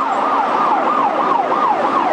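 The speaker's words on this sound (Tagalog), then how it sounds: "maagang umalingaw-ngaw ang sirena ng bumbero sa kalsada ng Metro Manila" A Bureau of Fire Protection fire truck siren wails on a Metro Manila street, a steady rising-and-falling tone repeating about every half second, loud and close, with no talk over it.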